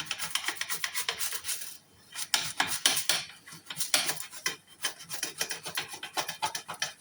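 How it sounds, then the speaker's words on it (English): Dishes being scrubbed by hand to lift stuck-on cooked food, a near, continuous rasping scour in quick uneven strokes with light clinks of crockery and cutlery and a short pause in the middle. "I'm in the middle of washing up."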